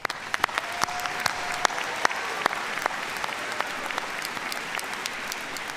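An audience at a college commencement ceremony applauds steadily, with a dense, even roll of clapping and a few crisp nearby claps popping out over the crowd.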